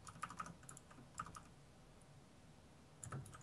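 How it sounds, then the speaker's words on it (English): Quiet, sparse typing on a computer keyboard, a few light clustered key clicks with pauses between, heard faintly in a room with no talking. "Dude, you're typing."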